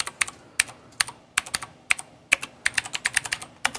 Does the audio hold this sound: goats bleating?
no